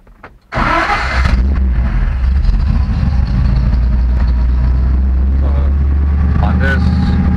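A Studebaker V8 with Fitech fuel injection cranks briefly and catches, then settles into a loud, steady idle that runs on close by to the end.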